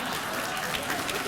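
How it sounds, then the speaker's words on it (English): A late-night talk show studio audience claps and cheers in a brief, steady wash of applause, moderately loud and continuous, with crowd noise blended in. "Think what you're applauding!"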